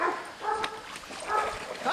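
Dogs bark and yip at a kennel, a scattered chorus of several animals with whimpers mixed in, at moderate distance and fairly faint against the yard's background.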